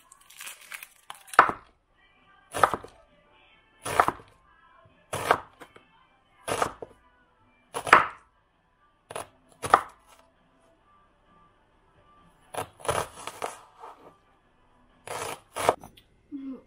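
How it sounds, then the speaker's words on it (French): An onion being chopped with a knife on a cutting board in a home kitchen, about a dozen sharp knife strikes coming singly and in short clusters, close and clear against a quiet background with no talking. "Donc on découpe l'oignon."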